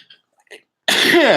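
After a brief quiet pause, a single loud, sudden sneeze bursts out close up and trails off in a voiced exhale.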